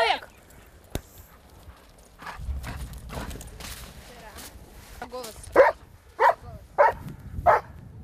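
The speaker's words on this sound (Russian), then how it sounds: "Раздается победный лай." A rescue dog barks in a rapid series of four or five loud, close barks after finding a person buried in snow, following softer rustling and movement.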